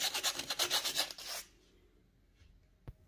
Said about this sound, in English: all that's left is to just sand down the joint to create a clean finish